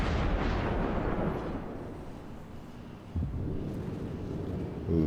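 Ship guns firing in the World of Warships video game from an Isokaze destroyer, a deep rumbling boom rolling out, then a second heavy blast after a few seconds, loud over a steady wind-like roar.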